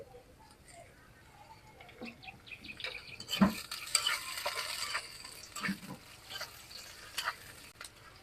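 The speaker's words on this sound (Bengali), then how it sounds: "রসুন আর কাঁচামরিচ তেলে ভেজে নিচ্ছি" Garlic and green chillies frying in hot oil in a pan, a soft continuous sizzle punctuated by louder stirring scrapes and clinks of a utensil, near and moderately loud.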